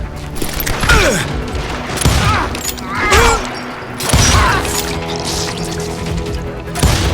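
Gunfire breaks out in the street in the Western shooter Call of Juarez: Gunslinger, with several loud shot bursts spaced through the clip amid game noise and brief voices.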